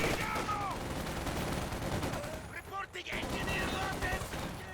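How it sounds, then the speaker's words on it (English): Dense gunfire, likely machine guns, crackles from a Company of Heroes 2 battle and fills the whole stretch with continuous explosive noise. Battle effects layer over it. "going for the double machine guns instead"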